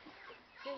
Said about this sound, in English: That's a Mizo chicken.